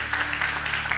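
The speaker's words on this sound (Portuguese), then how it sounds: "E as palmas para o Senhor Jesus essa noite." Applause at a theology graduation ceremony: a short burst of steady clapping from a crowd, with a low hum underneath.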